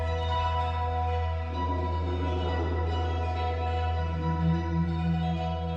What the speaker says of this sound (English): I've made a couple of these drones on my OP1 raw.